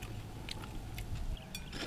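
Crispy pork chicharon being bitten and chewed at close range in a backyard setting, with crunchy bursts over a steady low mouth noise and no talking.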